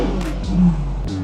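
A Ferrari Purosangue with a Novitec exhaust idles with its valves closed, a low, steady engine rumble near the car with a slight swell in the middle.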